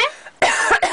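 A cockatoo imitates a human cough, giving a few short, close, raspy coughing bursts in quick succession with brief gaps between them.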